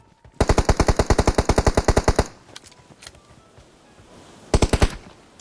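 Automatic weapon fire in the mobile battle royale game PUBG Mobile: a loud, rapid burst of evenly spaced shots lasting about two seconds, a few scattered distant pops, then a second short burst, with no voices.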